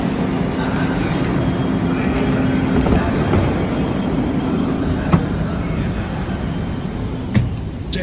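A steady, loud rumble and rattle fills the inside of a moving train carriage, with an occasional clunk breaking through the constant ride noise.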